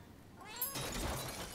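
Cat meowing in the video game Rise of the Ronin, a drawn-out, moderately loud meow that swells and fades alone over a soft background murmur, with no clear purring evident.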